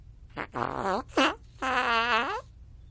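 Cartoon fart sound effects from The Simpsons, several loud, wet, tonal blasts of varying length in quick succession, the last one long and drawn out.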